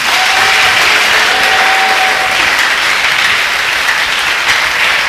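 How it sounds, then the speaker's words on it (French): A church congregation bursts into loud, sustained applause during a deliverance service, a dense, steady wash of many hands clapping at close range with crowd noise mixed in. "Tu peux acclamer le Saint-Esprit."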